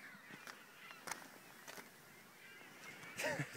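Gulls calling by the shore, a scattering of faint honking cries at irregular intervals, with one louder call near the end over a quiet outdoor background.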